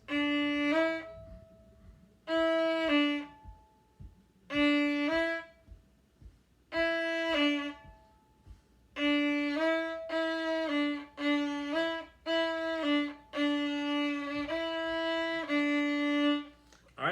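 Fiddle notes bowed in short hooked strokes on "Bile Them Cabbage Down", stop-and-go pairs separated by brief rests, then a quicker run of notes, close and clear.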